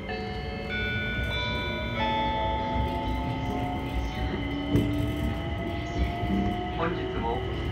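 A JR East E257 series limited express train pulls away and runs steadily, heard from inside, with sustained tonal hums and a rising motor whine under faint rumble; a voice speaks quietly over it.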